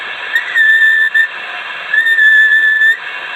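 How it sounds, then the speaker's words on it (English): A steady whistled tone sent over the air through a QRP dual-band 20 m/40 m radio transceiver on 14.2 MHz at 5 watts, two sustained notes separated by a brief gap, loud and clear above a faint background hiss. "Sorry, I don't know how to whistle properly, so I am modulating in my voice only."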